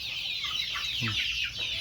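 A hen gives a few short clucks against a steady background hiss, one brief burst standing out mid-clip.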